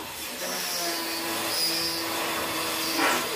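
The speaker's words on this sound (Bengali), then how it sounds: "পাশের বাড়ির কাজের শব্দ শোনা যাচ্ছে" Construction work at the neighbouring house comes through as a steady, whirring, tool-like drone at moderate distance, fairly quiet and continuous, with a brief louder swell near the end.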